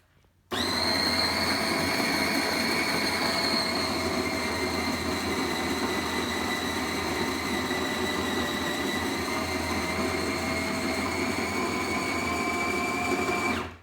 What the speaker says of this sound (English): So what I'm now going to do is press the grind button.